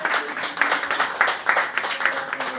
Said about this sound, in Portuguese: a igreja senta aplaudindo a Jesus Cristo